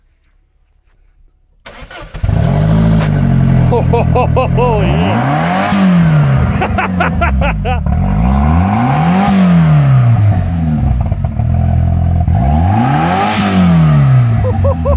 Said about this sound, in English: I'm gonna start her up for the first time and have a listen of what it sounds like without an exhaust